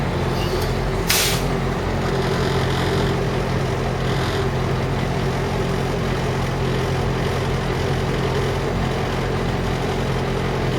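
Bus air brake system being pumped during an inside pre-trip inspection, with a short sharp hiss of air early on over a steady low engine idle rumble that continues throughout.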